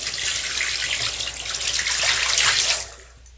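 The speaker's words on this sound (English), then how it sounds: "Using our 1-gallon pitcher, we're going to add water to the gray tank by pouring it into the shower." Water pours from a one-gallon pitcher into an RV shower drain, a close, steady splashing gush that swells and then tapers off as the pitcher empties.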